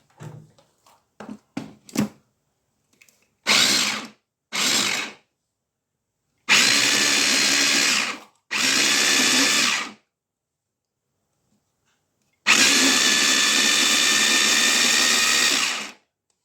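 A food processor minces molokhia leaves in pulses: a few quick clicks and taps first, then several loud, close whirring bursts of one to three seconds each, separated by short silences, with the longest run at the end.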